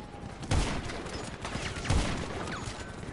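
Two distant gunshot bursts from a long-range gun in GTA Online, set during the Cayo Perico update, each a sharp crack with a low thump about a second and a half apart over steady game ambience.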